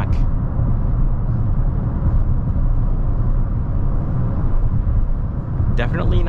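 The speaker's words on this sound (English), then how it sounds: "definitely the wind noise is not as bad as the other direction" Steady broadband wind rush and road rumble fill the cabin of a moving Toyota bZ4X electric car with dual 80 kW motors, constant and fairly loud, ending with a brief sharp noise.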